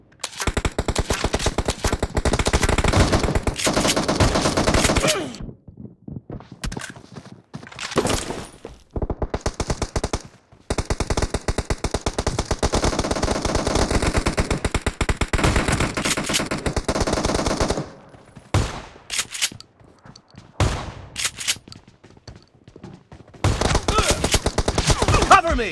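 Rapid machine-gun bursts and repeated gunshots from a shooter video game, loud and dense in long sustained volleys broken by brief pauses, with no talk over them.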